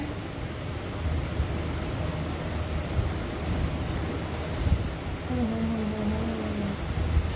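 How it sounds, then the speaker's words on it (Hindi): Strong wind blowing outdoors, a steady, loud, broadband rush that lasts throughout with small gusty swells and no clear speech. "इतना अच्छा मौसम है, इतनी तेज हवा चल रही है"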